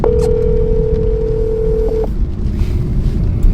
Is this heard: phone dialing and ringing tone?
yes